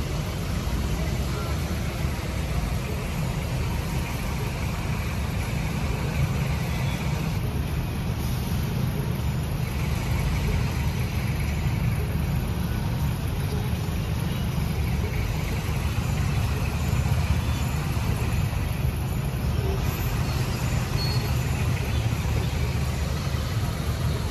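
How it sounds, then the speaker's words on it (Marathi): Dense road traffic near Pen with buses and trucks forms a steady, unbroken rumble of engines and tyres, heard from inside a vehicle moving slowly through a morning jam. "पेनच्या पुढे ट्रॅफिकच आहे"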